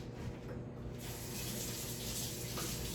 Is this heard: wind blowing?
no